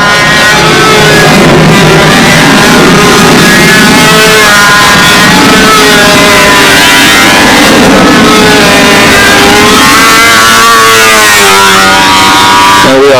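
A Spitfire Jett 60 glow engine on a control line model airplane screams continuously at very high volume, its pitch wavering and shifting as the plane circles in gusty wind, with a faint voice underneath.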